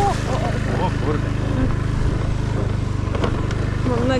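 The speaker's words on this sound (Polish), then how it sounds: "Mam nadzieję, że ten skuter przeżyje naszą wyprawę." A motor scooter rides on Koh Rong island, Cambodia, its engine a steady, close, low droning hum that runs continuously while people talk over it.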